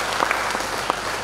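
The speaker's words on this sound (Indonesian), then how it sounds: "Tepuk tangan untuk kita." Seminar audience clapping together, a brief steady burst of applause filling the hall.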